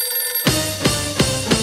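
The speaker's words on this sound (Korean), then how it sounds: "그래서 연초에 중간 점검 전화 연결 한번 해봅시다" A telephone rings out as a call is placed to a fasting retreat prize winner, sounding as repeated warbling ring pulses after a short silent lead-in, loud and close with no talk.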